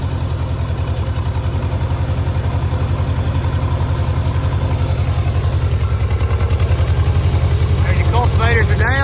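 An old tractor pulls cultivators in first gear, its engine chugging loudly and steadily in a close, rhythmic knock, with a voice talking briefly near the end.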